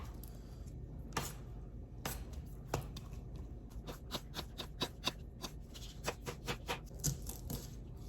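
Vegetables are rough-chopped on a cutting board, with a knife landing in a run of sharp, fairly regular taps that grow quicker and more even partway through, close and moderately quiet with no talk.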